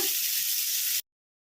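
Ridge gourd fries in a pan on medium flame, giving a steady bright hiss and sizzle for about a second before it cuts off abruptly.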